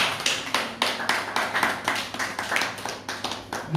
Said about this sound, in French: Je voudrais qu'on acclame pour le Seigneur Jésus-Christ.